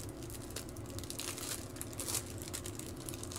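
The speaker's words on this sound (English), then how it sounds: "let me just get it out of this little plastic bag" A small plastic bag rustles and crinkles in close, quiet bursts as an item is pulled out of it, with soft crackling peaks and no speech.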